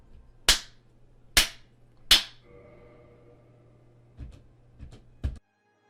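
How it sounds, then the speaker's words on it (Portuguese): Three sharp, loud hand claps spaced about a second apart trigger a game's back button, followed by a faint tone and then a few softer claps or taps. "ele até configurou o botão de voltar para ser ativado com o som de palmas"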